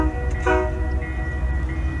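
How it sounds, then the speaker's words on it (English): Union Pacific coal train stopped for a crew change at the Fremont, Nebraska depot, giving a steady low rumble of idling diesel locomotives with a brief brighter tonal swell, alone with no talk. "fairly sizable coal train in for a crew change"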